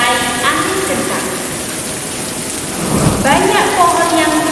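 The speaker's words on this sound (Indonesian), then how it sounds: "hujan turun dengan lebat disertai angin kencang" Heavy rain pours down in a forest amid strong gusting wind, with rolling thunder swelling loudly near the end; a steady dense wash of sound with no voices.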